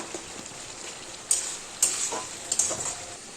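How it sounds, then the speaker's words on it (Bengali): Tomatoes cooking in a pan get stirred after resting under a lid, a soft sizzle with a few sharp scraping strokes of the spoon, close and with no talk. "5 মিনিট পর ঢাকনাটা খুলে টমেটোগুলো ভালো করে মিক্স করে দেব।"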